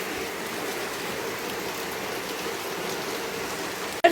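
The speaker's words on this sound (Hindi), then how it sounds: "बट बारिश अभी रुकने का नाम नहीं ले रही है।" Heavy mountain rain pours steadily as a dense, even hiss with pattering drops throughout, close and continuous, with a brief louder knock at the very end.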